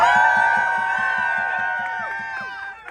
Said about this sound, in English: Let's hear some cheers.